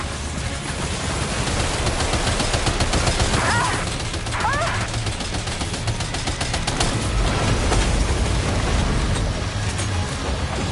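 Dense gunfire from the video game Death Stranding 2, loud sustained bursts and rattling volleys running through the whole stretch over a steady rumbling game backdrop.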